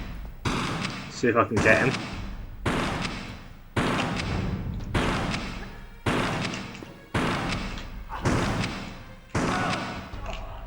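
An old shotgun is fired at an enemy in Tomb Raider 3 on PlayStation 1, in the India caves level: about nine loud, evenly spaced blasts, each with a short decaying tail, while someone talks between them.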